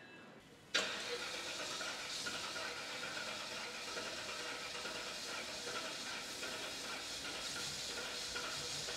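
A Cadillac V8 with an empty fuel line cranks without starting after an engine failure, a sudden steady whirring drone that begins under a second in and holds without catching, heard close in a garage.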